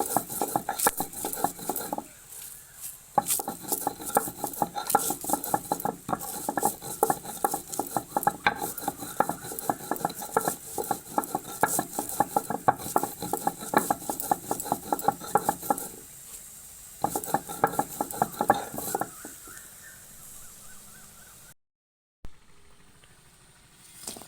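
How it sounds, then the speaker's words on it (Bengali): Spices are ground into a paste for a sweet-spicy chalta pickle, with a rapid, steady rhythm of scraping and knocking strokes that continues for long stretches, pauses briefly, then resumes before stopping. "এবারে মশলাগুলো একটু বেটে নিই"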